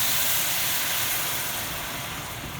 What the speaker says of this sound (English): now I'm going to deglaze my pan with just a little bit of chicken broth